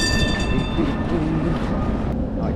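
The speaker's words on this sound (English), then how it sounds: "I definitely almost just got run over by a tram." A tram rumbles past close by on a Prague street, a steady loud rolling clatter of wheels on rails with a faint high whine.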